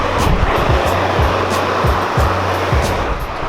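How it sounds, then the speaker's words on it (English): Heavy rain pours steadily outside, a dense broadband hiss with a low rumble, continuous and loud throughout with no voices. "it's pouring rain outside."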